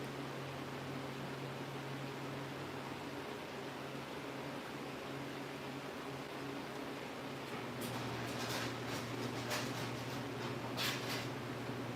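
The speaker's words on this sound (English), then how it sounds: "You can hear our dryer in the background." A clothes dryer runs with a steady low mechanical hum and whirring drone throughout in the background, with faint tapping near the end.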